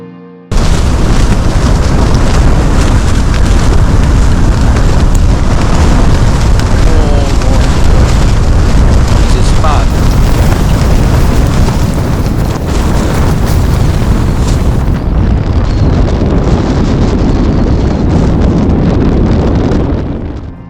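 Blizzard wind pounds a tent pitched behind a snow wall in Arctic snow, a loud continuous roaring buffet with heavy low rumble and flapping gusts that hardly let up for the whole stretch.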